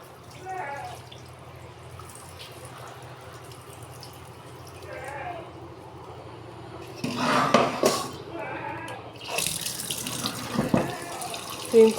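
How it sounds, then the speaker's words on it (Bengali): Rice is washed in water under a running kitchen tap, with bursts of splashing flow, swishing and light clinks of a pot or utensils, while a person talks quietly nearby. "আমি হচ্ছে 5-6 বারের বেশি ধুই। চালগুলো ধুয়ে নিই।"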